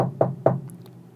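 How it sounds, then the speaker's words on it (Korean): Two sharp knocks on a door land in quick succession, close and distinct, followed by a faint fading room tone. "언니에게 전화를 한 후 깜빡 잠이 든 사이 노크 소리가 들렸습니다."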